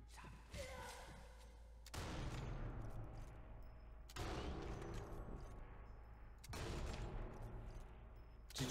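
Sniper rifle shots in Sniper Elite 4 fire one at a time, three sharp cracks about two seconds apart, each trailing a long echoing boom and rumble.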